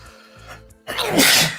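A single loud, close sneeze bursts out near the end after a quieter stretch of low indoor background.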